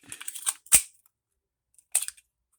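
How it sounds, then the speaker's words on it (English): Magazine dropping free from a Tisas 1911 Duty 9mm pistol after roughly 150 to 200 rounds fired: a short mechanical rattle and a sharp metallic click, then another brief click a moment later, close and alone in quiet. "And we get the mag release, comes right out."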